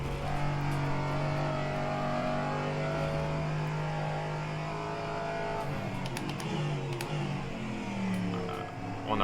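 A car drifting on a track, its engine holding a steady high rev with sustained tonal drone, shifting pitch slightly as it slides, loud and continuous throughout with no talking.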